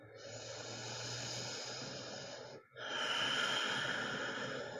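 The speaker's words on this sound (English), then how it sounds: "Take one more cycle of breath." Deep breathing during seated chair yoga, a long slow audible inhale followed by a brief pause and a fuller, airy exhale, close and fairly quiet with no talking.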